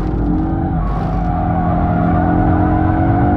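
An all-new 2022 Audi RS3 with 400 hp and all-wheel drive drifts through a corner, its engine droning loud and steady with rising revs and tyre noise throughout, no voices.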